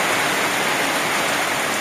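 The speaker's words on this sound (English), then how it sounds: "strong rain has come here live and alive in Lang Cotabato" Heavy rain pouring down in Mlang, Cotabato, a dense, loud, unbroken hiss of drops striking surfaces, constant throughout with no voices.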